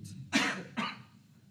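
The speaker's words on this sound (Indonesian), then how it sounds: "Ini batuk, mau minum juga nggak berani." Two sharp, close coughs in quick succession, followed by quiet.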